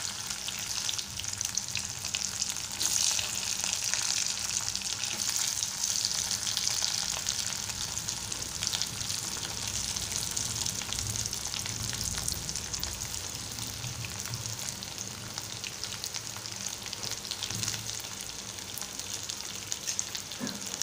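Potato frying in a pan for batata poha, a steady, dense hiss of sizzling oil lasting the whole stretch, moderately loud and close, with some light stirring and no voices.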